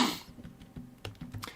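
A single sharp sneeze bursts out at the start, followed by soft rustling and faint clicking noises.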